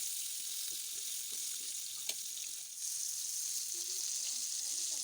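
Seekh kebabs frying in oil in a pan, giving a steady, close, even hiss of sizzling that runs continuously with little change in level and no talk over it.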